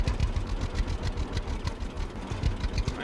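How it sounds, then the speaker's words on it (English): An old tractor climbs a slope in the Farmer's Dynasty game, its engine chugging with a rapid, rough, knocking rhythm, loud and steady throughout. "for an old tractor, it's still got a fair amount of pull to it"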